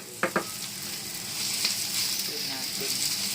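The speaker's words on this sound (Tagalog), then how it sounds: "Saka natin ilalagay itong ating rice" Rice goes into a pan already frying onion and garlic: a couple of sharp taps at first, then a steady, loud sizzle that fills the rest, with no voices.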